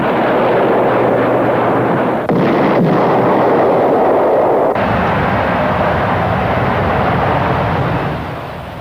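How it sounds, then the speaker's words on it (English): A Cormoran anti-ship guided missile is launched from a Tornado jet. A loud, sustained roaring blast with a sudden shift partway through trails off into a broad rushing noise, and no one speaks. "Another Marine Flieger and Aeronautica Militare weapon is the Cormoran anti-ship guided missile."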